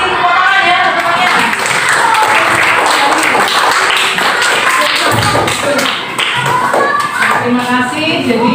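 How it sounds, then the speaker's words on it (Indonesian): A classroom of children claps hands together in a lively, uneven burst, loud and close, with a few voices and light thumps mixed in before the clapping trails off briefly and resumes. "Tepuk tangan ya semuanya."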